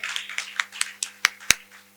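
Sharp, irregular claps and taps in a short run of about eight distinct strikes, growing louder toward the end, close and dry with no voices.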